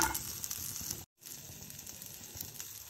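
Chopped garlic hits hot oil in a pan while making heerekayi (ridge gourd) chutney, producing a close, steady crackling sizzle that cuts out briefly before resuming and continuing evenly.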